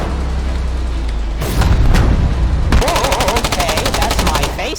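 Rapid video game gunfire in a trench battle with a light tank, sharp shots breaking out then turning into a steady automatic burst, loud and close, with faint voices under the shooting.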